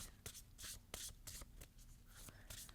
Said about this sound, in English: So, Shawn, tell me when to stop shuffling.